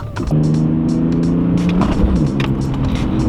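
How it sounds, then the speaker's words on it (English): A BMW E46 on a test drive hums steadily from inside the cabin, its engine tone holding level and then shifting as the car rolls on, with faint clicks and road noise around it. "So we finally finished it, and Danny is taking it for a test drive"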